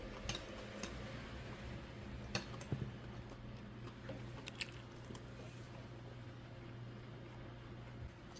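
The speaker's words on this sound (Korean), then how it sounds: "여기 이거 최정아찌도 한번 먹어보고 멸치도 먹어보고" Someone quietly chews wild mountain greens from Gombaeryeong on Jirisan together with anchovies, giving soft, steady crunching and squishing bites with a few sharper clicks, faint and close with no talking.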